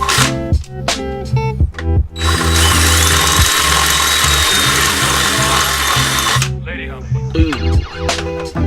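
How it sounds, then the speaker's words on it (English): A power drill bores out a hole in a hydraulic handbrake bracket on an E46 BMW drift build, a steady loud whine lasting about four seconds, framed by clattering tool handling and ratcheting before and after. "I need to drill out this hole right here."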